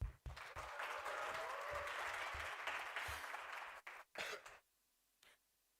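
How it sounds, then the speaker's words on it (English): An audience at a tertiary institution debating challenge gives a steady round of applause for a speaker, dense clapping lasting several seconds before breaking off into a few scattered claps and quiet. "Please give a warm round of applause to Honorable Cavallo Kakena."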